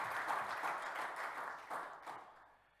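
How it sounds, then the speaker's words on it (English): Conference audience applauding in a hall, a steady wash of many hands clapping that holds for a couple of seconds, then thins out and fades near the end. "and again, round of applause for them."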